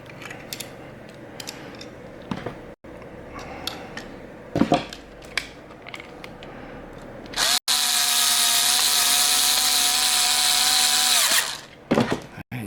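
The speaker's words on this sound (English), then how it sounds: "then you put your little anti-tamper screw in here" Power screwdriver driving an anti-tamper screw into a Hikvision HiLook camera mount: a steady, loud whirring burst of several seconds follows scattered handling clicks and knocks, then stops abruptly.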